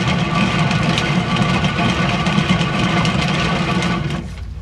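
A spinner turning an acrylic pour painting gives a steady, loud motorised whir with a rattly hum, close by and continuous, fading slightly at the end.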